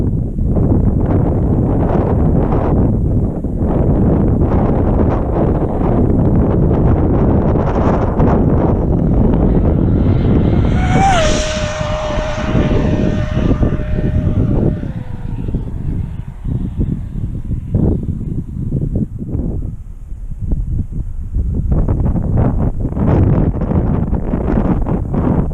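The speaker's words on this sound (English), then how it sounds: "that side wind coming in pretty good" A strong side wind buffets the microphone outdoors at a remote-control car speed run with a Traxxas XRT, a loud continuous roaring rumble that dips briefly midway while a high whine rises and holds for a few seconds.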